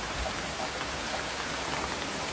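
Torrential rain pours onto an electric tricycle camper in a dense, steady roar of drumming drops, close and continuous with no voices.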